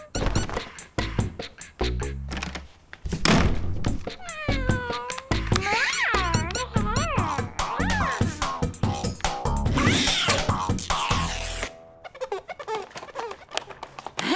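Cartoon cat meowing repeatedly with loud, expressive drawn-out meows, mixed with thumps and music-like effects, continuous for most of the stretch before quieter sounds at the end.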